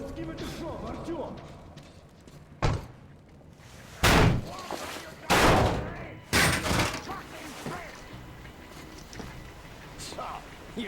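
In the Metro Exodus video game, a door is battered and forced open, several heavy loud slams and cracks spaced a second or so apart, with low voices and game ambience around them.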